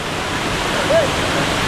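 Steady roar of a waterfall at an outdoor picnic spot, a dense, unbroken rush of falling water with one brief whistle-like tone near the middle.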